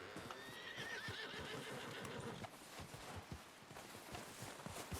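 A horse in the Red Dead Redemption 2 video game whinnies near the start while its hooves clip-clop in a steady walking rhythm, close and clear throughout.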